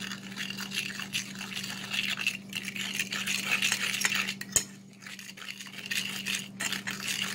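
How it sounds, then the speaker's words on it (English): A utensil stirs continuously in a bowl of strawberry tart mixture made with hot tap water, scraping and swishing close by, with a steady low hum underneath and one brief clink midway. "let me mix this up a bit"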